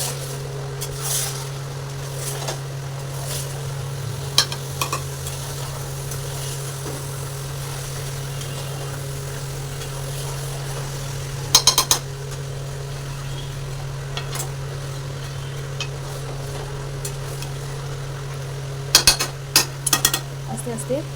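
Marinated mutton being stirred into cooked masala in a pan, a low continuous sizzle under a steady hum, broken by occasional sharp spoon knocks and scrapes against the vessel.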